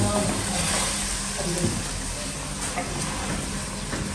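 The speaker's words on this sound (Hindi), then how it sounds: "ये देखें कितना अच्छा नाइसली मैंने इसको भून लिया" Mutton with achar gosht masala fries in a pan with a continuous close sizzle, stirring scrapes scattered through it.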